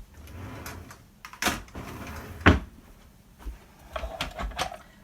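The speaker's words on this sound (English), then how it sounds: "this goes in a drawer" A drawer in a craft room slides and knocks several times, with sharp wooden thumps and soft scrapes near the start, middle and end, recorded up close with no talking.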